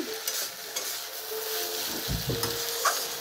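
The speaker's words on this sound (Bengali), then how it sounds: "নেড়ে মিশিয়ে দিচ্ছি।" Taro stems being stirred in a pan with grated coconut, a steady close sizzle broken by scraping strokes and a few clinks of the utensil against the pan, with no talking.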